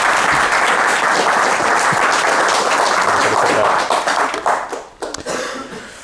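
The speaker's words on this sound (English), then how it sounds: "give a big round of applause to Sebastian" An audience at a live club talk gives a big round of applause for the speaker, with dense, sustained clapping that thins and breaks up over the last seconds.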